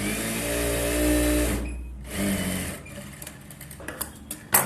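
Sewing machine stitching fabric with piping, a steady fast mechanical whir for about a second and a half, then a brief restart and softer intermittent clicks and taps as the machine stops.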